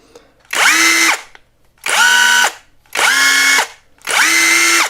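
A KAMOLEE DTW500 cordless impact wrench runs at first speed in four separate close whirring bursts, each about a second long with short pauses between.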